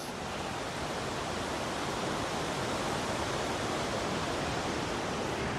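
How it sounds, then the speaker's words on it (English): Waterfall at Tallulah Gorge in heavy flow, a loud, steady broadband roar of rushing water that holds even and unbroken throughout. "But here's one of the waterfalls"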